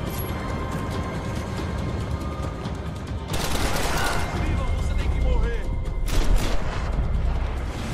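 Sustained video game gunfire from Max Payne 3, continuous shooting and booming impacts throughout, swelling louder midway, with a voice talking over parts of it.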